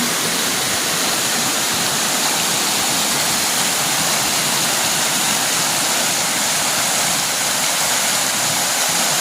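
Floodwater rushes in a loud, unbroken roar, dense and steady like a torrent pouring past nearby, with no voices over it.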